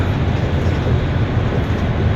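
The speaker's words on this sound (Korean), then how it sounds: "밀라노로 들어가는 기차입니다." A train bound for Milan, in northern Italy near Lake Garda, gives a steady, loud low rumble throughout with an even, continuous rolling noise and no voices.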